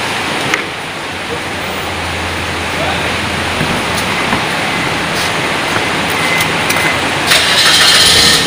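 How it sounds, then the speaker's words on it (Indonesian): A car engine is started ahead of an emission test with the radiator relay pulled, then settles into a steady idle under a broad hiss, with a few faint clicks and knocks in the workshop. "kemudian mesin kita hidupkan"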